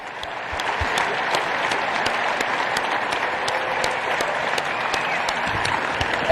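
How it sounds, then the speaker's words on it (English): Arena crowd at the Berkshire Hathaway annual shareholders meeting breaks into sustained applause and cheering as a number 60 jersey banner rises to the rafters, a dense, even wash of clapping that swells slightly at the end. "The crowd wildly cheering this moment."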